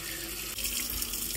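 Water pours steadily into a cooking pot holding star anise, cinnamon, pepper and a bay leaf, a close, continuous splashing rush that swells slightly and cuts off abruptly at the end.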